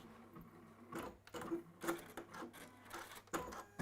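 A domestic sewing machine runs in short bursts, stitching forwards to the end of a seam and then backwards over the stitching, with pauses between runs of mechanical clatter, close by.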